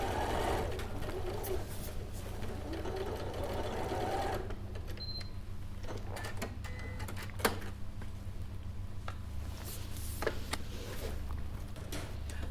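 A domestic sewing machine stitches the seams of a small fabric bag, reversing briefly at the turning gap, giving a steady close mechanical whirr and rattle that runs continuously with slight changes in pace and no talk.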